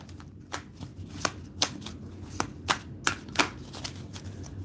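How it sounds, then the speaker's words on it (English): A deck of tarot cards is shuffled in quick, crisp riffles, about a dozen sharp snaps in a loose rhythm, close and distinct against a quiet room. "let me shuffle these bad boys one more time."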